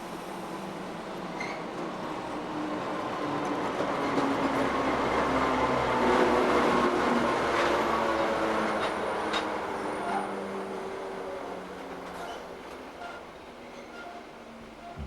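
Narrow gauge railway cars hauled by a National Rail diesel locomotive roll past, a steady broad rumble of wheels and engine swelling to a peak midway and easing off as the train continues.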